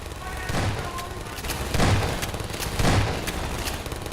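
An automated turret in Half-Life 2: Episode Two fires repeated heavy booming shots, with strong thuds arriving roughly once a second over a steady rumble of combat.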